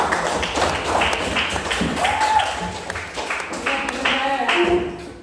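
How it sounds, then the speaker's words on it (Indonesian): A classroom of students applauding, with scattered claps and taps mixed with chatter and voices throughout. "Beri aplaus untuk semua dulu"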